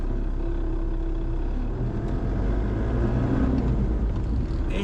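A Chevrolet D20 double-cab pickup with an S4T diesel engine drives along with a loud, continuous low engine drone and road rumble. The sound stays steady throughout and no one speaks.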